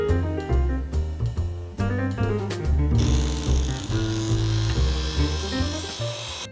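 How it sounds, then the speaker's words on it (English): Woodworking router fitted with a 45-degree bit chamfering the edges of a wooden box, a loud close motor whine with rough cutting bursts that shift in pitch as the bit runs along the wood, no voices. "I decided to put a little chamfer on all the edges of my box with a 45-degree router bit."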